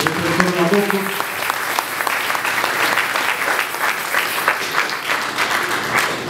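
Sustained applause and clapping from a congregation during a church radio service, dense and steady throughout, with a voice briefly heard near the start.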